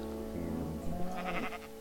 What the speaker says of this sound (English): there's lots of sheep here.